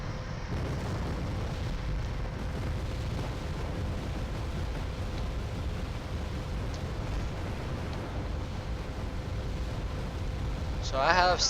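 Rockets firing and exploding in the Wargame: Airland Battle video game, a constant low rumbling barrage under a player's voice, with a sharper burst near the end.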